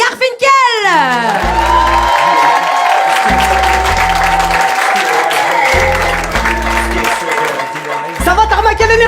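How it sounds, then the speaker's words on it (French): Comedy club audience at a stand-up show erupts in loud applause and cheering with whoops and shouts, while pulsing entrance music with heavy bass plays underneath throughout. "Un tonnerre d'applaudissements pour Yuri Garfinkel."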